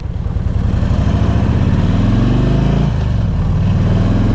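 A 1999 Harley-Davidson Electra Glide Standard engine runs loud and close, a deep, throbbing rumble that rises in pitch as it revs, then drops briefly before climbing again, with no voices.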